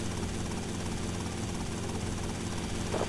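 Police helicopter in the video game Grand Theft Auto III or Vice City, a continuous low rotor drone with steady engine hum hovering overhead, unbroken and fairly loud.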